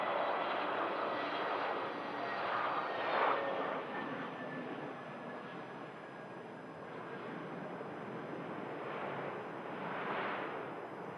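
A fixed-wing aircraft roars in on arrival at Manchester Airport, a broad, steady engine rumble that rises and falls gently over several seconds with a light breeze and no talk.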